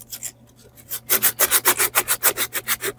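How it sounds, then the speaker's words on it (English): Sandpaper rubs over the head of a 70-year-old vintage doll being restored, a quiet scrape followed by about a dozen fast, rhythmic strokes, loud and close, with no talking. "I'm sanding her entire head"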